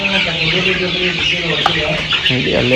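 Twenty-five-day-old chicks at a poultry farm give dense, overlapping clucks and cheeps, loud and close, with someone talking briefly among them.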